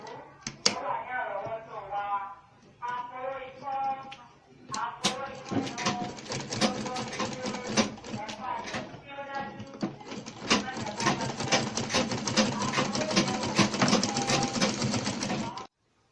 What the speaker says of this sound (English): Take it to the machine and stitch straight.